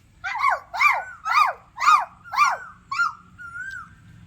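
A voice imitates a puppy, giving six rhythmic yelping whimpers in a steady row that ends in a softer, drawn-out whine, close and clear with no other talk.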